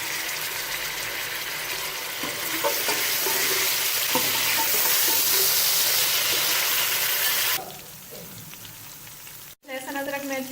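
Boiled beef stirred and frying in hot ginger-garlic paste for a beef yakhni pulao, a loud steady sizzle with scraping stir strokes that drops away near the end, then a brief clatter.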